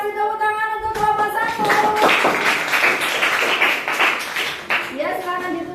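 A classroom breaks into clapping for a student group after their presentation. Several seconds of close, brisk hand claps come between a speaking voice at the start and at the end.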